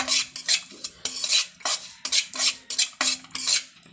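A spoon scrapes and clinks rhythmically against a hot kadai as semolina is stirred and fried, sharp metallic strokes repeating every half second or so, close and clear with a faint dry sizzle beneath.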